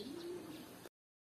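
A foundation pair of breeder pigeons cooing in a loft, a single soft low throaty coo lasting under a second, faint and close with no talk.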